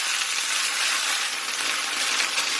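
Beef searing in a pan for a beef and cabbage stir-fry, a dense steady sizzle, close and fairly loud, with no speech.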